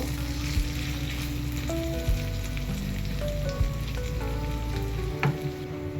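A continuous hiss of frying with occasional soft knocks and scrapes as thick lentil paste is stirred in a pan.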